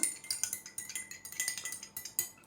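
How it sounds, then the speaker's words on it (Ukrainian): A spoon stirring a strawberry-pineapple tea drink in a glass, quick rhythmic clinks against the sides repeating steadily for a couple of seconds, close and clear with no talk. "Ну що ж, розмішуємо."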